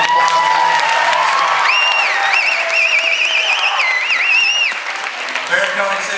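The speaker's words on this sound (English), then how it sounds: "so can we give Logan a round of applause?" Loud, sustained audience applause with cheering and whoops fills a community event hall, steady throughout, while a high warbling tone wavers through the middle.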